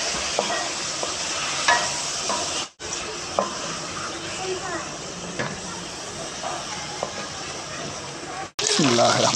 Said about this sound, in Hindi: इसको अच्छे तरीके से फ्राई करना है।